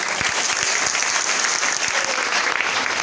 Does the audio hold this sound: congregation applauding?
yes